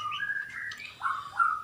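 Captive-bred birds chirp in a breeding cage, giving a few bright whistled tweets in quick succession, close and clear with no voices over them.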